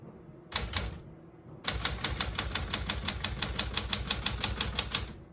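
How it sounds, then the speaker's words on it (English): Crisp mechanical keystrikes from a Smith-Corona Galaxie Deluxe manual portable typewriter: a short burst, a pause, then a fast steady run of clacks, close and clear. "all the keys type nice and none of them skip or stick"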